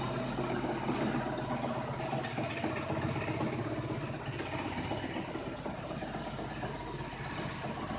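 An engine idles on its own just after a cold start, with no choke, a low continuous rumble with an even mechanical pulse that holds at the same level throughout.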